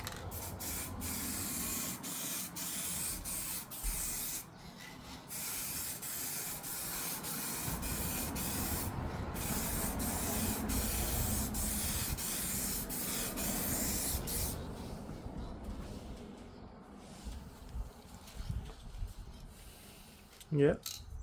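Aerosol spray hissing onto a car headlight for a heavier second coat, in repeated bursts with short gaps, steady and close, fading to quiet handling sounds near the end.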